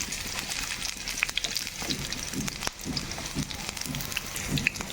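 Chopped onion, one medium-sized, frying in hot oil in a pan after cumin seeds, for a brinjal, egg and tomato masala curry, giving a steady close crackle and sizzle with scattered pops and no one talking.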